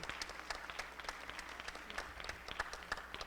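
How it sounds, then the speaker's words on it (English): A faint, thin round of applause from a small audience at an NAACP candidate forum, scattered individual claps heard from a distance with little crowd noise. "Y'all can give him a round of applause?"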